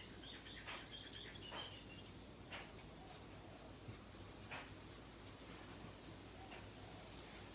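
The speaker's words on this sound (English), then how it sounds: "feel free to listen to my birds singing around" Faint, scattered bird chirps ring out at intervals from a distance in a quiet outdoor setting.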